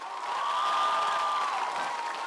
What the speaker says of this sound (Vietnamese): Một tràng pháo tay nồng nhiệt và to hơn nữa được không ạ?